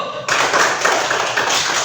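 Pupils in a classroom clap their hands together in a short, close burst of brisk, overlapping claps that starts abruptly after a brief moment of quiet.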